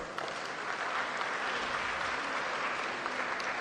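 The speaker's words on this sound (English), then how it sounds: "Let's please give him another round of applause" A conference audience at an annual New Year school gives a steady, continuous round of applause, dense and even throughout, somewhat distant in a large hall.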